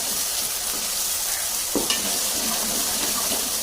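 Ginger garlic paste fries in a pan for chicken biryani, a constant sizzle with a brief stirring scrape near the middle, no talking.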